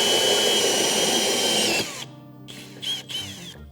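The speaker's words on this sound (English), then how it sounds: "Mark, pre-drill, and then drill." A power drill drilling holes while fitting a diesel heater in a classic camper whines loudly and continuously, then stops; after a short pause the motor gives a few quicker bursts and spins down.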